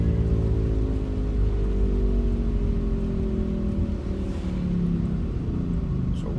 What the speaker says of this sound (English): Nope, raining.